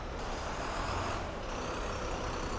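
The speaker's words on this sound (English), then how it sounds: "The wonderful double-decker buses of Hong Kong." A Hong Kong double-decker bus rumbles past on a Tsim Sha Tsui street, a loud, steady broadband engine and road roar with a brief hiss of air, filling the whole moment.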